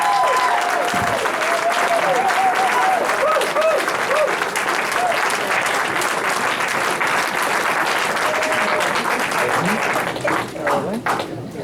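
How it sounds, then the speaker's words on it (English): A large audience at a Los Angeles Democratic convention caucus meeting applauds loudly and continuously, with cheers mixed in, the clapping fading slightly near the end. "Give her a round of applause."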